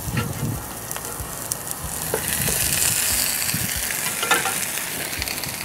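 Mackerel sizzling in hot oil in a pan, a steady close crackle and hiss that swells slightly midway, with occasional spatters and scrapes of a utensil, and no talking.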